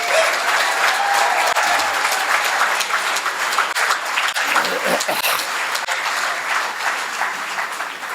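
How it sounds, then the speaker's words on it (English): A graduation ceremony audience at Cornerstone Institute applauds graduates in steady, dense clapping that holds for several seconds and eases slightly toward the end. "We may applaud all the graduates of this program."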